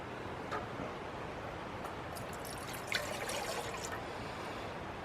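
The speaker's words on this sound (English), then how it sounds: "I'll just go ahead and pour it in my coffee cup." Hot water pouring from a kettle into a coffee cup at a camp setup for drip coffee, a soft steady trickle that runs through the whole stretch, fairly faint and alone.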